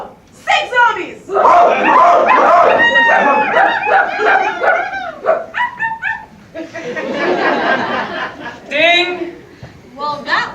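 Small chihuahuas bark and yip excitedly in quick bursts, some higher whimpers mixed in, close and loud, with a chuckle or brief laughter alongside.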